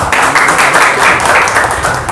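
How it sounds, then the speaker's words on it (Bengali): A crowd gives a short, loud, dense burst of applause for a successful exam candidate, steady clapping throughout. "তাই কৌশিকের জন্য কোথাও জোরে একটা হাততালি হোক"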